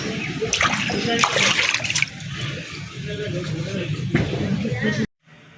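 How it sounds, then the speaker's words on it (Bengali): Freshly caught snakehead fish washed by hand in water, with close splashing and sloshing in uneven bursts that stop abruptly at the end. "বন্ধুরা মাছগুলো আমি একদম পরিষ্কার করে ধুয়ে নিছি খুব সুন্দর করে"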